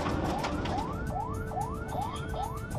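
Chinese police car siren wailing in repeated rising sweeps, about eight cycles, moderately loud over road and engine noise.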